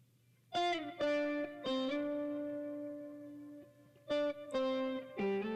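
Lo-fi lead synth preset with distortion and reverb plays a short melodic phrase of sustained, buzzy notes that ring out and decay, alone without talk.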